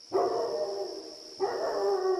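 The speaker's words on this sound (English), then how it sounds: "A dog is howling somewhere in the neighborhood." A dog howls somewhere in a residential neighborhood on a November night, two drawn-out wavering cries at moderate distance, the second beginning partway through, with a steady high-pitched tone sustained underneath.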